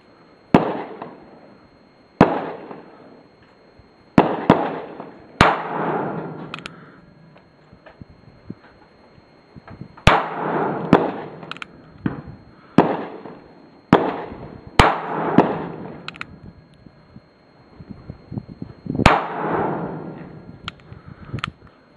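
Sharp, loud gunshots from an NAA .22 Magnum mini revolver fired outdoors at a target about 15 yards away, about a dozen single cracks at irregular intervals of one to three seconds, each trailed by a brief echo.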